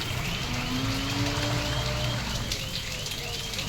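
Steady rain falling outdoors during a religious circuit walk, with water pooling along the way; a continuous even hiss fills the whole stretch, fairly loud and close, with faint tonal sounds beneath.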